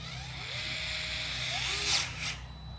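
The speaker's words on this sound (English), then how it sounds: "Find my drill." A cordless drill driving screws while changing a tire on a FloatWheel ADV whirs steadily nearby, its motor pitch rising and falling as it drives, with a brief louder burst near the end.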